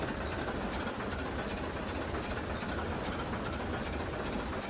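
A ChME3 diesel locomotive engine idles with a steady, rumbling throb and a dense mechanical clatter, continuous and fairly close, with no talking.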